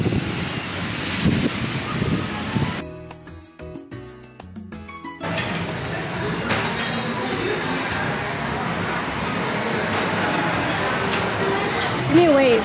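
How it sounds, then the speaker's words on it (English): Strong wind buffets the microphone with a low roar on a Florida beach, surf rumbling underneath; there is a brief break, then the gusts return. "It's so windy, I don't know if you can hear me"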